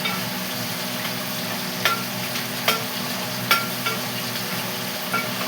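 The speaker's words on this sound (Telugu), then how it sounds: "ఇట్లా పోపు ఎప్పుడు కూడా ఇలా వేగాలి" Tempering spices (popu) frying in hot oil, a steady close sizzle and crackle throughout with a few sharper pops and spatters standing out, no talking.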